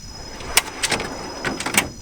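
A long drawer in a Metalian Maxi motorhome sliding along its runners, a series of short rattling scrapes and knocks clustered in two bursts, close by with no talking.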